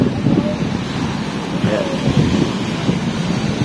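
Strong wind and rough waves along the Manila Bay seashore, a loud, continuous roar of gusting wind buffeting the microphone over surging surf, with a brief spoken word in the middle.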